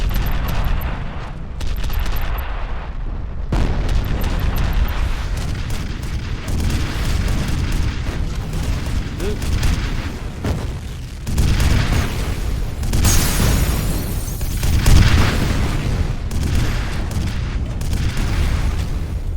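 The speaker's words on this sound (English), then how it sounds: "It's very easy to like get the rockets colliding with each other, so it just like destroys both sets of rockets." Loud, continuous barrage of explosive booms and rapid gunfire-like blasts as rockets collide and detonate in the shooter game F.E.A.R. First Encounter Assault Recon, dense and chaotic for the whole stretch with bursts swelling near the end.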